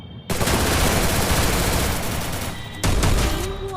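Gunfire in the Free Fire mobile game, a dense continuous burst of automatic shots that pauses briefly and then resumes, loud and up front with no talk over it.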